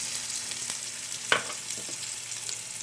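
Chopped tomato hits browned garlic in a hot pan and sizzles steadily, with a single sharp utensil clink partway through.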